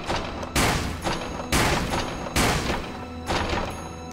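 Shooting in Shadow Hearts: Covenant, four loud, evenly spaced blasts about a second apart, each a sharp burst with a ringing decay, near and prominent.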